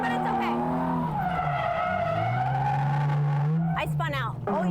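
A drift car's tires squeal and skid during a spin-out at a pro drifting event, a loud sustained screech that bends in pitch and crowds out most other sound, ending in a brief burst of noise.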